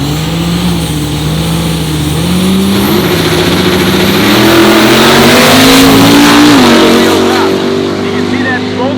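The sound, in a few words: 1945 Chevy rat rod truck with 1200hp Cummins diesel revving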